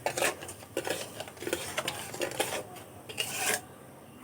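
Spoon scraping and stirring through a raw mango and sugar mixture in a bowl for aamsotto, a steady run of close, soft rasping strokes with brief clinks against the vessel, no talking.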